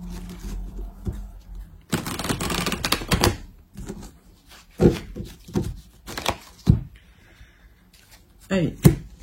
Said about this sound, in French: Alors, on va faire la coupe, on va voir votre semaine sentimentale.